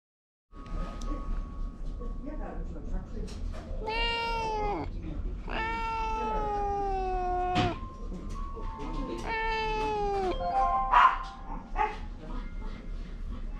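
A reluctant cat meows repeatedly inside a car during a drive: several drawn-out, wavering cries, fairly close, over a steady low cabin rumble.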